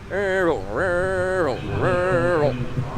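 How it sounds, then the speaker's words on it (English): A drag car engine with one low cylinder is cranked over by its starter in three separate whirring bursts, each rising, holding and falling away, loud and close. "So if you want to listen to this, because I can crank it over, because that's what you're actually listening for."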